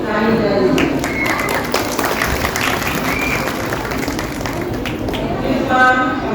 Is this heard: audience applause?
yes